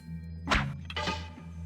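A trap fires in the stealth game Thief: The Dark Project with two quick, heavy thunks a moment apart, close and fairly loud against a low ambient hum.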